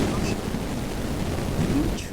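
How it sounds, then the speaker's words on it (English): Steady heavy rain hisses in a video game with a low rumbling thunder bed, constant and dense across the moment with no clear speech. "The rain grows stronger."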